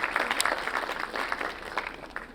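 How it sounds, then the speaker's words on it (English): Audience applause at a community impact panel session, a steady wash of clapping from a seated crowd that holds fairly level for a couple of seconds with no voices over it. "Can we have a round of applause for Gargi, please"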